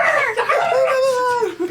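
A dog howls and yips close by, a drawn-out wavering call with higher yelping notes, loud and steady over about two seconds, with no talk over it.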